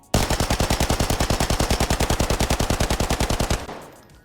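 Sustained automatic spray from a weapon in the shooter game Arena Breakout Infinite: about thirty rapid, evenly spaced loud shots in one unbroken burst lasting some three and a half seconds, then a short fading tail.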